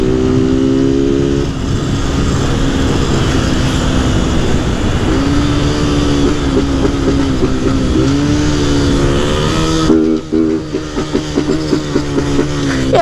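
A loud Honda CG 160 Start motorcycle engine revs and accelerates up a hill, its pitch climbing and shifting through gears, continuous and close, with rougher bursts near the end.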